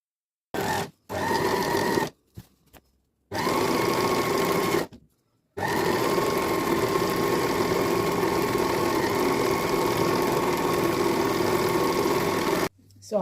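An overlock machine finishing the rough raw edge of fabric for a summer top runs in steady, loud bursts, starting and stopping several times before one long continuous whirring run of about seven seconds, with no talking.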